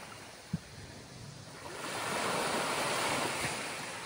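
Sea waves wash onto an island shore in fair, calm weather, a steady surf wash that swells louder midway, with wind noise on the microphone and a brief knock near the start.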